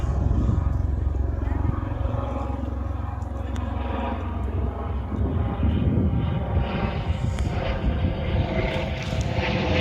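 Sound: helicopter flying overhead in Olden, Norway

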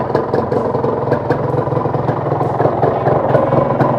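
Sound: motorcycle engine idling

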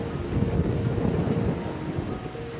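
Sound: strong wind while fishing on a boat

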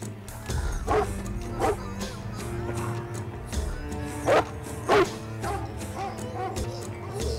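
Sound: dog barking in a film

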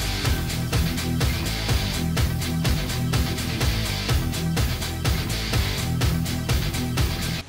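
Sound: excerpt of Rammstein song Du Hast

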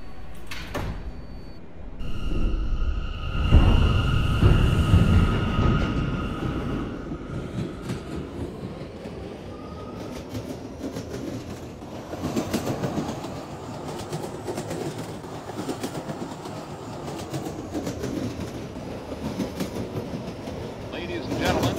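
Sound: subway train running

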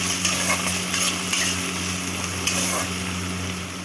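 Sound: chopped onions frying in a pan

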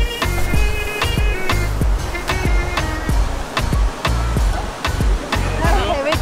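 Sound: river water rushing

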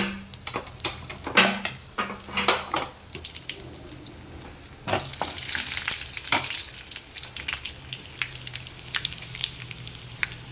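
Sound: dry red chillies frying in hot oil

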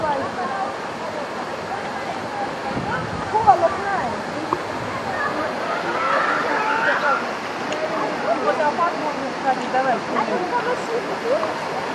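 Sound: waterfall near Pshada, village of dolmens

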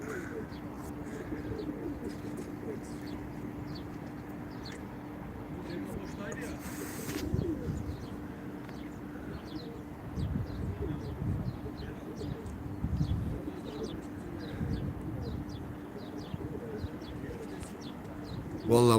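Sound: birds cooing

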